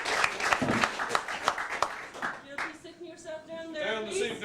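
Stand-up comedy audience clapping for a comedian, a burst of sharp individual claps and applause in the first half that gives way to a voice talking over fading claps.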